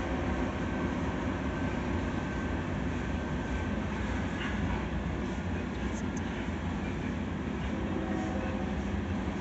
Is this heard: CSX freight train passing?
yes